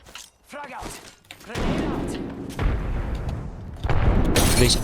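Explosions in a video game: a burst of heavy thuds and booms rolls in after a short pause, with a louder blast near the end, while players talk excitedly over the noise.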